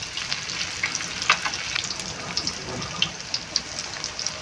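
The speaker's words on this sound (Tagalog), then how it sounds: "Hinintay ko na nga lang din talagang uminit nga dyan yung mantika at saka ko naman nga sinalang itong cheese stick ko." Homemade cheese sticks fry in hot oil in a pan, a close, continuous crackling sizzle full of small pops and bubbling.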